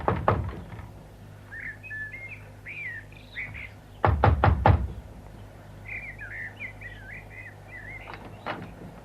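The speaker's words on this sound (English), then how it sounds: "Now, better knock just in case." Knocking on a door in a radio drama: a few knocks at the start, then a firm burst of about four loud knocks midway and a single later knock, with faint birdsong chirping in the background.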